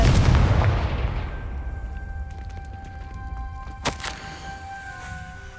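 Confringo fire spell in Hogwarts Legacy bursting in a single loud, booming explosion that decays over several seconds, with faint rattling debris and a sustained tonal hum afterward.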